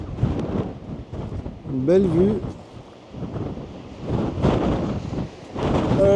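Strong wind buffets the microphone on the beach at Lacanau in loud, rumbling gusts, while people talk over it.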